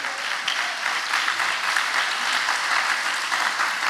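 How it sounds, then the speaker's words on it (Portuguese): Loud, sustained clapping from a large crowd at a church service, a continuous dense wash of applause without pause. "Pode aplaudir a palavra do Senhor mesmo."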